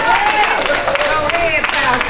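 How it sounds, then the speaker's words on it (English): A church congregation claps in steady applause, mixed with voices and a preacher's singing or talking voice over the top. "somebody clap your hands for the Lord Jesus"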